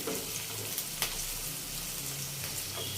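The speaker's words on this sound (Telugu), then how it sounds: "ఉల్లిపాయలు అనేవి పచ్చిమిరపకాయలు మంచిగా వేగిపోయాయి" Onions and green chillies fry in a pan, giving a steady, faint sizzle and crackle with a few soft stirring taps.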